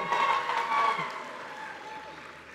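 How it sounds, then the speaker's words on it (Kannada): Applause from an awards-show audience at a Kannada film star event, a steady wash of clapping that swells early and gradually thins out over a couple of seconds. "ಒಂದ್ಸಲ ಚಪ್ಪಾಳೆ"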